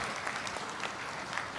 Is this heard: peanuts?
no